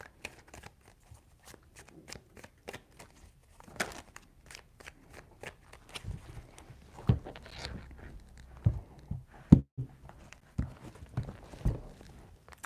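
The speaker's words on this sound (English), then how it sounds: "Three shuffles." A deck of tarot cards is shuffled three times, making quick, close, dry riffles and soft snaps in short bursts with brief pauses, and taps grow louder toward the end.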